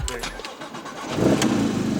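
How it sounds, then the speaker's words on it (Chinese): A 2015 Porsche 911 GT3 RS with a 4.0-litre naturally aspirated engine starts up and settles into a close, steady idle rumble, following a brief spoken word. "我要把引擎先打开"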